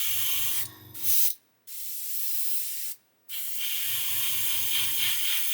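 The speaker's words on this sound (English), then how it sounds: "I'm having all sorts of problems with this airbrush today" An airbrush spraying model paint hisses in sharp bursts broken by abrupt silences, sputtering and cutting out as if partly blocked. A low rhythmic pulsing from the compressor sits under the spray.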